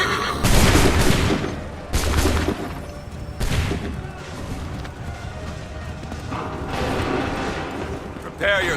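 Ragged musket volleys from lines of soldiers in Assassin's Creed 3 crack out in several loud crashing bursts, with rattling mechanical noise and shouting voices in the gaps between them.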